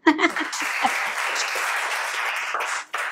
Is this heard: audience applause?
yes